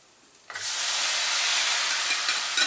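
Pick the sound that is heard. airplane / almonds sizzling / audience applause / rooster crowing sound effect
almonds sizzling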